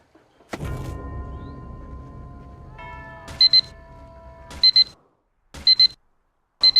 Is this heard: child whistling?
no